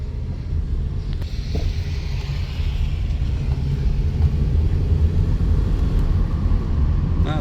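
A 2011 Toyota Camry rolls slowly around a parking lot, giving a steady low engine and road rumble with some wind buffeting on the microphone that grows slightly louder toward the end.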